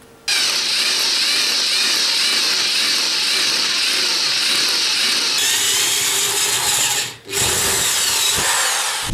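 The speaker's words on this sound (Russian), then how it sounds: "Рассверливаю отверстие." A drill boring out a hole in a metal disc, loud and continuous for about nine seconds with a brief dip near the end, no voices.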